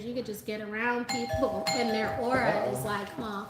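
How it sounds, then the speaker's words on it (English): A doorbell rings with a sustained chime tone midway through, heard under continuous conversation as people talk over it. "so that's the doorbell"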